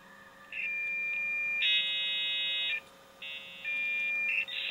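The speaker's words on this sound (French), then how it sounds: "Et donc le modem qui se connectait." A dial-up modem connects in a video game, giving off a series of loud, shrill electronic tones and screeching chirps that change pitch in steady blocks, with brief gaps between them.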